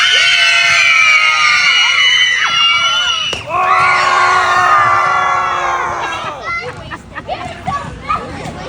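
Loud, high-pitched screaming and cheering from a group of children at a cooking class as a watermelon is smashed, rising in long sustained shrieks before breaking into scattered shouts.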